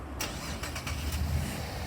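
Holden VF Commodore SV6 ute, a 2013 model, starting by remote start, heard as a steady engine rumble catching and settling into a low idle close by, with no voices.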